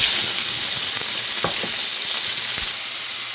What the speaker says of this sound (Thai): ตั้งกระทะให้ร้อนเดี๋ยวใส่กุ้งลงไปผัดค่ะทุกคน